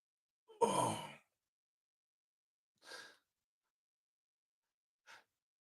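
A person gives one long, loud yawn, followed by two shorter, softer breathy exhales, with silence in between and no talking.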